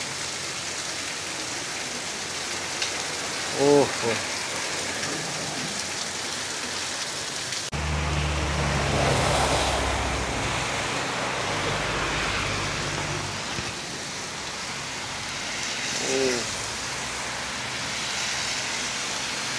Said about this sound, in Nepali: पानी चाहिँ सही आएको छ कि सही